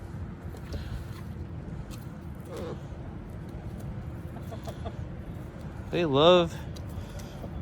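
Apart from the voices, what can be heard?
chickens clucking while eating alligator scraps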